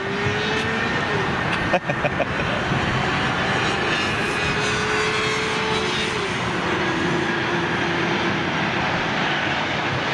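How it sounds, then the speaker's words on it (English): A United Boeing 767-400 jet airliner with winged wingtips at Heathrow Airport, its engines producing a steady loud roar that holds for the whole stretch, with a brief clatter near the start. "United 767-4. Those beautiful winglets."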